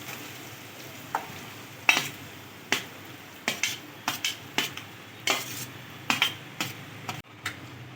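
Potatoes tossed into a pan with curry leaves and chilli for a dry potato bhaji, a quiet sizzle under a series of crisp spatula clacks and scrapes against the metal, close and irregular, no one talking.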